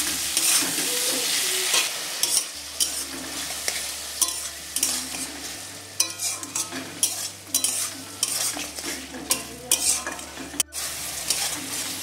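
Ground dried chili paste, added after turmeric powder, sizzles and fries in a pan for a dish of jackfruit and prawns, with repeated close scraping strokes of a spatula over a low steady hum and no speech.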